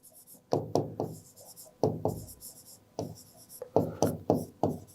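A pen or marker taps and strokes on a board during an accounting lesson, making quick knocking strokes in short rhythmic clusters separated by brief pauses, close and fairly crisp.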